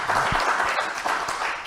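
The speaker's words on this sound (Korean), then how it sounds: "박수 한번 주세요." Audience applauding at a Dalseong High School alumni gathering and award ceremony in Seoul, a steady dense wash of clapping filling the whole moment without a break.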